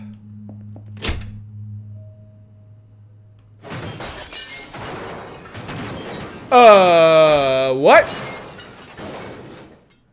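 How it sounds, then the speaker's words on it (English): Crashing and breaking in the Enigma video game: a sharp thunk, then a flurry of cracking and clattering, followed by a loud, shattering crash that rings out, with a brief spoken word near the start. "I heard the sound of things breaking or cracking on the other side of the door of the ballroom."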